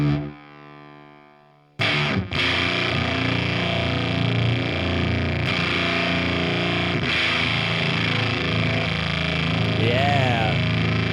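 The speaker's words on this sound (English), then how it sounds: "So this is an envelope fuzz." Electric guitar played through a Fuzzrocious Croak envelope fuzz pedal, a thick distorted tone with sweeping filter swells, loud and continuous after a quieter opening note.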